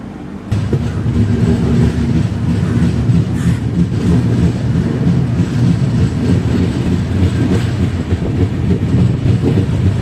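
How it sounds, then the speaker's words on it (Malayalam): The Island Express pulling out of Changanassery station, a loud, close, continuous rumble and clatter of wheels and carriages heard from on board, steady throughout after a brief quieter opening. "വണ്ടി എടുത്തോട്ടോ ചങ്ങനാശ്ശേരിയിൽ നിന്ന്."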